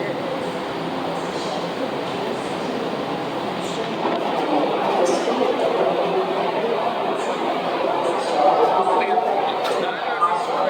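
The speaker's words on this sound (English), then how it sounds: "Wait until the train leaves." WMATA Yellow Line metro train of the 6000 or 7000 series at Huntington station, a steady rumble and rolling wheel noise throughout with a slight swell near the end, under voices talking on the platform.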